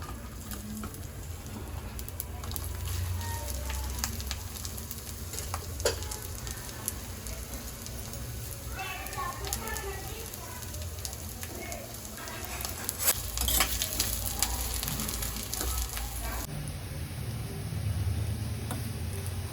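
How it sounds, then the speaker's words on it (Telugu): Ginger pieces frying in a pan for an Andhra ginger pickle, a steady broad sizzle with scattered ticks and scrapes of stirring, close and continuous throughout. "దోరగా వేయించుకోవాలండి అల్లం ముక్కలు."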